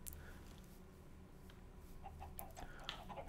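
Chickens clucking in a modded Minecraft farm pen, with scattered soft game-style clucks and squawks over a steady low background hum.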